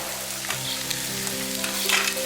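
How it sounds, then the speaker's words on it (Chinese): Sausage, onion, mushroom and carrot stir-frying in a wok, a steady close sizzle and crackle with light scraping from stirring throughout. "洋葱炒出香味儿，咱要腊肠放进去炒"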